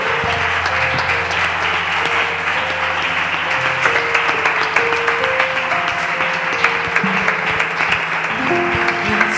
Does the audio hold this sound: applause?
yes